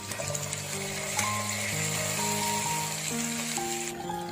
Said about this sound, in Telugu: ఇప్పుడు ఇందులోకి కట్ చేసుకున్న బెండకాయ ముక్కలు వేసుకుందాం.